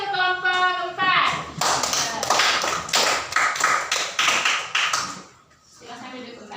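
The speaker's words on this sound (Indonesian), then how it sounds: "Tepuk tangan untuk kelompok 4." A classroom group claps for group 4 of students, a dense burst of many hands lasting several seconds, preceded by a teacher's voice and fading to quiet with a voice after.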